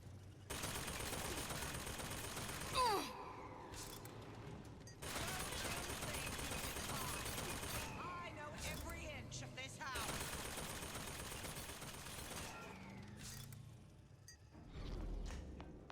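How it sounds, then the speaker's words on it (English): Automated turret gunfire in Bioshock Infinite, long bursts of rapid shots in several sustained volleys with brief gaps, loud and continuous, alongside game effects. "Why is there turrets here?"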